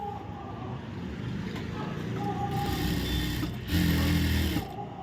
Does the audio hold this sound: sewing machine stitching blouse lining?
yes